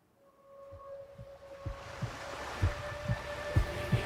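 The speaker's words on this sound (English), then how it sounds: "a heartbeat." A single drum beating like a heartbeat, soft, slow thumps that grow stronger and more regular over a rising hum and sustained tones.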